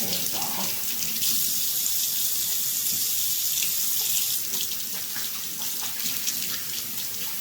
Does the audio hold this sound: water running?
yes